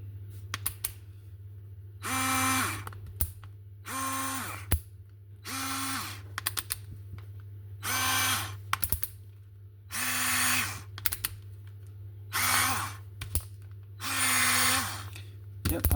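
Parkside 4V cordless rod screwdriver running in repeated short bursts, about seven whirring pulses of roughly a second each separated by pauses, with clicks between runs over a constant low hum.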